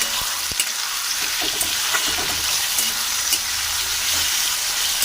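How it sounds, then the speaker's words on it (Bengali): Chopped onion and tomato fry lightly in a pan for chilli soybean, a continuous close sizzle broken by small scraping stirs and faint pops, with no talking. "হালকা করে ভেজে নেব।"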